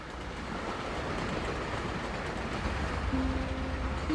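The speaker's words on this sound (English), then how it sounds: "that sound right there sounds like the train tracks kind of going over the rails" A steady, dense rumble of a train rolling along rails continues throughout, with a faint tonal hum rising near the end.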